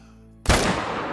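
A single sharp gunshot in the Call of the Wild hunting game, a sudden loud close blast with a booming low tail that decays over about a second after a quiet lead-in.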